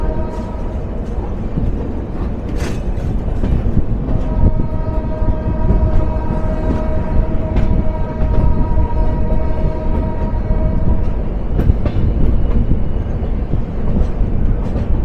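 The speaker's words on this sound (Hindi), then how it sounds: "हमारी शताब्दी एक्सप्रेस कर्व होते हुए अब हरिद्वार की ओर बढ़ रही है" Wheels of the Dehradun Shatabdi Express squeal steadily as the train runs on a curve toward Haridwar, a sustained tonal screech over constant rail rumble and clatter, close and fairly loud throughout.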